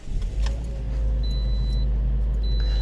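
A 2010 Toyota Corolla S engine starts and settles into a steady, loud low idle, with a thin electronic beeping chiming over it.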